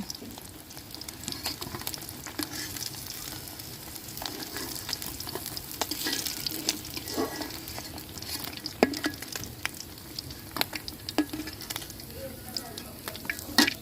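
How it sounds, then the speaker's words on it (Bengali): Hilsa fish fries in hot oil, a steady close sizzle with scattered sharp pops and crackles that continue without a break. "তো মাছ ভাজিটা হয়ে গেছে এখন আমি উঠায় নিব"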